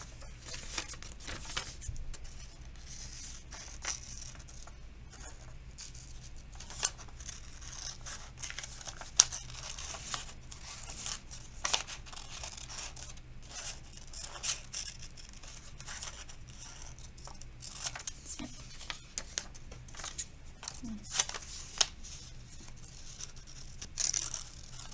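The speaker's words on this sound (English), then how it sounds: "I'm gonna cut that part off again." Scissors cutting paper for a homemade crown, a long stretch of faint, irregular snips and rustling paper handling, close but quiet, with no speech.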